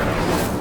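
Incendio fire spell cast in Hogwarts Legacy, a dense roaring whoosh of flame that fills the whole moment at steady loudness with no pause.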